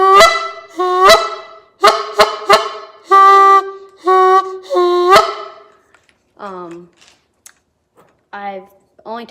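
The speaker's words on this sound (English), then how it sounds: "this is a cheap flute call that I got at Walmart" A cheap flute-style goose call blown by a person gives a run of loud, honking notes in quick bursts, then a few softer, shorter honks trailing off.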